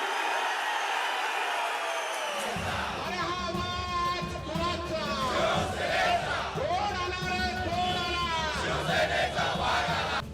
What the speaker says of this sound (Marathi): कार्यकर्त्यांनी एकच जल्लोष केला